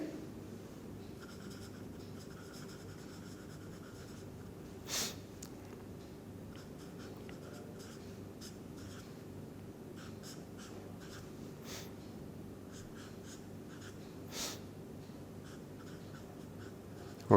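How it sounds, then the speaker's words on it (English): Marker or chalk squeaking and scratching as a chemical structure is written out on a board in a quiet lecture setting, with faint intermittent strokes and a few sharper taps over a low background hum. "let me write the structure for diglyme"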